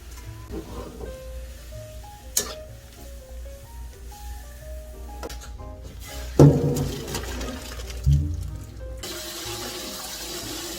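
Ogapi (Acanthopanax) shoots go briefly into water for blanching: a continuous wash of running, sloshing water with two louder splashes near the end, nearby, with no talking.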